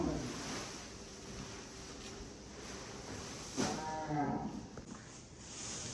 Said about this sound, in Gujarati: ઓ પછી અહીંયા આવશે બધી ગાયું.